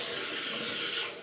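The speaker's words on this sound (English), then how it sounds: "rinse your hands with hot water" Hot tap water runs steadily from a faucet while hands are rinsed, a continuous close hiss and splash that eases slightly at the end, no talking.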